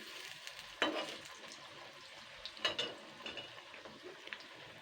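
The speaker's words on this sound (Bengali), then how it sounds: "এইভাবে প্রত্যেকটা বড়া আমি কিন্তু ভেজে নেবো ভালো করে" Pui shak (Malabar spinach) fritters frying in oil over medium heat give a steady soft sizzle, with a few sharper crackling bursts as pieces are stirred or turned.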